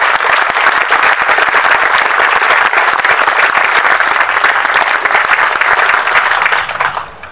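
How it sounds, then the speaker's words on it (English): Dense, steady applause from an audience honoring a fife and drum corps at a Veterans Day ceremony in Leesburg, continuous and loud, then tapering off at the very end. "Let's give them another round of applause,"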